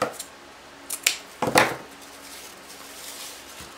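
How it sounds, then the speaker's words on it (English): Scissors snip ribbon for a mesh wreath, a few crisp close cuts clustered around the middle, with light handling noise between them. "Let's cut that off."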